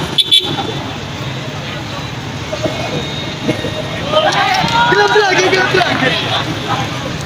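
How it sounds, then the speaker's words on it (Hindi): Crowd outside a Pakistan–India cricket match, a dense babble of many voices and shouts mixed with road traffic and occasional horn toots, with someone speaking close over the din. "बहुत ज़्यादा लोग हल्ला गुल्ला कर रहे हैं।"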